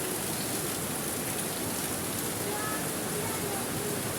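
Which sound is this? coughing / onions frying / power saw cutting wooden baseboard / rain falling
rain falling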